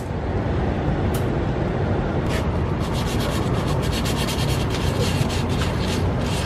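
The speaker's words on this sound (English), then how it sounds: "I'm just gonna watch you sand, Jack." Steady, continuous sanding on a boat during an LED light install, a loud close rasping scrub that runs without break, with faint light taps over it.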